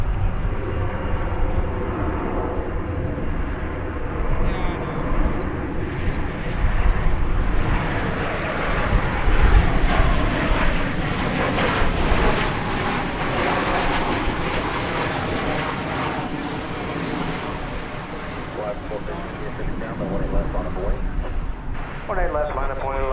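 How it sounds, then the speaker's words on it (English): Boeing 737-800 airliner, flight 1231 from Albuquerque, arriving at DFW Airport: a broad, steady jet roar that swells and fades slightly over twenty seconds, heard at a distance, with no talk. "Let's get a look here at flight 1231 coming in from Albuquerque, New Mexico. It's a 737-800."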